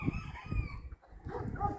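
Chickens and bantams of mixed breeds in a farmyard, with a rooster crowing and clucking in short bursts, fairly close, with a brief gap before the calls resume.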